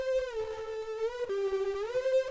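A gritty, buzzy synth lead plays a short sliding melody with dense harmonics, heavily distorted and sustained, alone without any voice.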